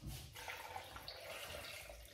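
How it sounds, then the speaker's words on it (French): A large glass of water is poured into a blender over frozen fruit, including pineapple, a steady broadband splashing rush close by that lasts throughout, with no talking. "Maintenant je vais rajouter un grand verre d'eau."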